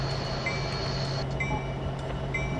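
Metra SD70MACH locomotive in Train Simulator 2019 running steadily as it slows, a continuous low engine drone with a steady hum, faint high whines and occasional soft chirps.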